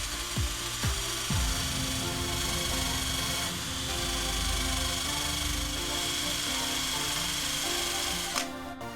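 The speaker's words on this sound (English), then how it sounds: "I'm going to grab my drill with that little sanding disc on it" A power drill whirs steadily with an 800-grit sanding disc grinding against an aluminum intake manifold, a continuous loud abrasive rubbing that briefly shifts pitch near the start.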